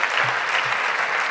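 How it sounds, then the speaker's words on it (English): Sustained applause from a conference audience in a hall, dense steady clapping that holds at an even level from start to finish with no voices standing out. "Another applause."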